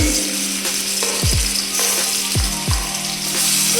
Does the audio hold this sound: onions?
yes